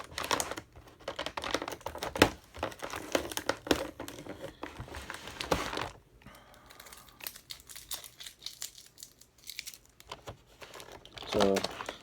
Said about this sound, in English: let me see if I can get this tape off of here